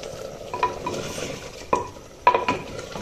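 Fresh coriander being stirred into a sand grouse curry in a pan, with soft scraping and a few sharp spoon knocks against the metal over a low simmering sizzle, close and without speech.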